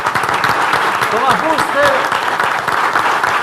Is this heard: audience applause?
yes